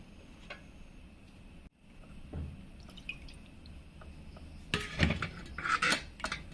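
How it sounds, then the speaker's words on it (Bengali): Water poured from a bowl into a Bengali steamed hilsa fish mixture in a kitchen, heard as soft splashing and dripping that builds toward the end, with faint clinks of utensils. "হাফ বাটি জল দিয়ে দিব"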